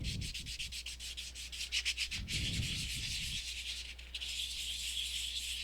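A polymer clay pendant being sanded gives close, rhythmic rubbing strokes, quick gritty scrapes in runs with short pauses between passes.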